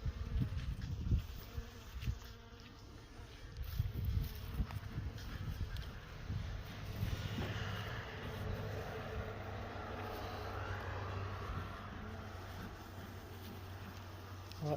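Honey bees buzzing around opened hive boxes in cool 10 °C weather, a dense steady drone with individual bees passing close by, some faint outdoor rumble underneath, no talking.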